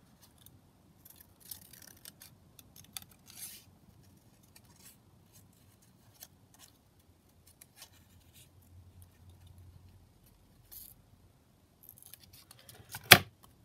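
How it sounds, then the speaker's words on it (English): Scissors snip through a large paper banner to shorten it, a quiet scattered handling with faint rustles and one sharper close clatter near the end. "Just cut that down. I just make it shorter because it was quite a big banner."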